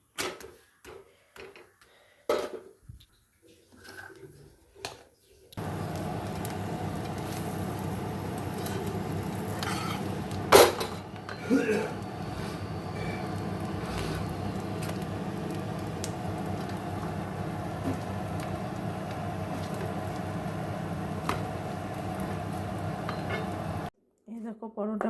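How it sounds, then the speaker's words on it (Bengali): Rolled roti flatbread frying in a home kitchen pan, a steady soft hiss that runs for about twenty seconds after scattered clatter and a few quiet knocks, with someone talking over parts of it. "এই যে একটু ভাজছি রুটি।"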